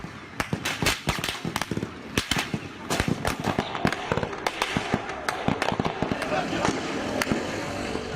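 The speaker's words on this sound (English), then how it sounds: "Gunshots in the streets of Turkey" Scattered sharp gunshots crack irregularly over several seconds in the streets of Turkey during a coup attempt, some close and loud, others fainter, with a murmur of voices and street noise beneath.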